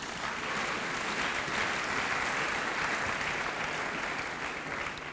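A church congregation applauds in praise during a sermon, a continuous even wash of many hands clapping, fairly loud and unbroken from start to finish.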